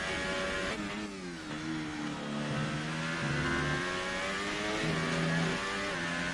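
A Formula 1 race car engine in the video game F1 2018 whines loudly and continuously, its pitch rising and falling as the throttle is eased on and off.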